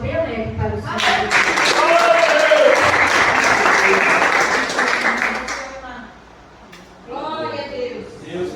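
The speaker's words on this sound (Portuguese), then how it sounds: "Palmas bem alegres a Jesus." A Portuguese-speaking church congregation bursts into loud, sustained applause during a Sunday service, which fades out before speaking voices return.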